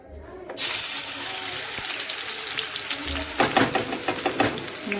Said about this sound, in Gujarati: અહીંયા આપણું મસ્ત મજાનું તેલ ગરમ થઈ ગયું છે, તો એમાં આપણે હવે નાખી દઈશું ડુંગળી.